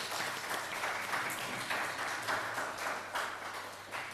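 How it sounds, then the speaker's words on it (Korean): A church congregation at a Sunday service in Darmstadt gives a farewell round of applause for a departing member, steady moderate clapping from many hands heard at a slight distance. "오늘 현규 형제님 또 잘 가시라고 환송의 박수 한번 드리겠습니다"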